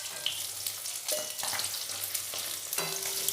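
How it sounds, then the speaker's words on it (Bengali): Pieces of catla fish for Bengali doi katla fry in hot oil, a bright steady sizzle with several clattering knocks as the pieces are flipped and turned, close up. "এবারে আমি উল্টে পাল্টে মাছগুলো ভেজে নেব।"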